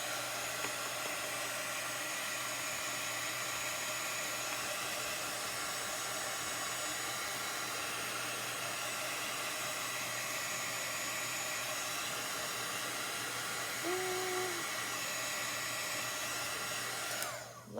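A hair dryer blows a steady, loud whooshing roar over a chalk paste layer on a craft piece, continuous for many seconds before cutting off at the end.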